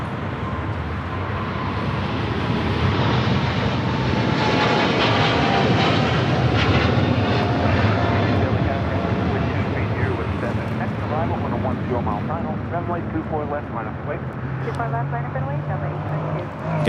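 A Southwest jet airliner departs LAX, its engine roar swelling loud and broad, holding strong through the middle, then easing slightly toward the end, with no talking.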